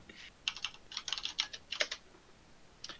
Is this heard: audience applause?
no